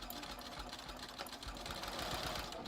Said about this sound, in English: I'm going to do is I'm just going to sew right on that fold that was made by the bias tape maker